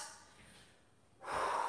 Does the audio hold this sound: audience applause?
no